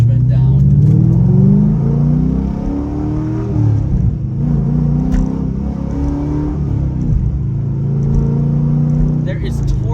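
A 2005 Corvette C6 with an LS engine revs hard under acceleration, its loud, close exhaust note climbing and dipping through the gears in a continuous roar that fills the whole stretch.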